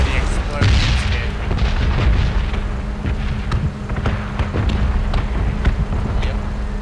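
Deep rumbling booms of explosions roll continuously, loud and close, with sharp cracks and a voice partly buried under the din.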